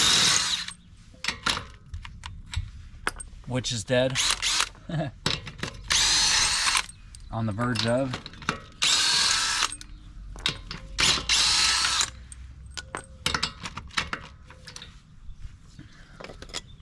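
Power drill with a 22 mm socket removing lug nuts on a Toyota Sequoia wheel, several loud bursts of whirring and rattling separated by pauses, with someone talking briefly between them.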